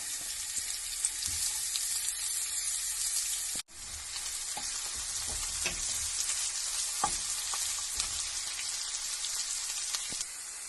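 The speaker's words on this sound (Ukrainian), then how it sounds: "Так, смажу цибульку." Onion frying in a pan gives a constant bright sizzle with scattered pops and a brief break near the start, close and fairly loud.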